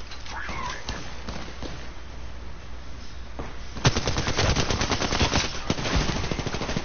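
Automatic gunfire erupts in an Apex Legends match, starting with a few isolated shots and then a sustained rapid burst of close, loud fire over the second half.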